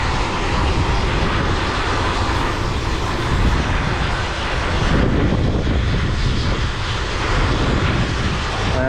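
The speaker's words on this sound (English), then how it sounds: "this is the tank cleaning machine" A tank cleaning machine runs on the deck of an oil tanker, giving a loud, continuous broadband roar and rushing hiss that stays steady throughout with no voices.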